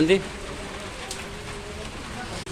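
Heavy, steady rain falling during a low-pressure weather system, a dense continuous patter that stays loud throughout with no pauses.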